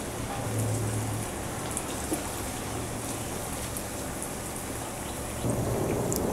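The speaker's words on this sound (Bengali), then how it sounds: "এখন আমি পেঁয়াজগুলো ভেজে নিব।" Onions fry in hot oil in a pan over medium heat, making a steady, dense sizzle and crackle that holds even throughout and swells slightly near the end, with no talking.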